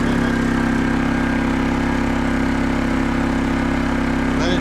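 A brand-new WEN 3600 generator engine runs for the first time with a steady, loud, close hum and constant drone from start to finish, with no talk.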